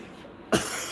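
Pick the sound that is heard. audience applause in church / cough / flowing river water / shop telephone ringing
cough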